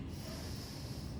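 Steady breathing of a person holding a yoga pose with the chin raised, a continuous airy hiss with a low rumbling, snort-like rasp, close and moderately quiet throughout.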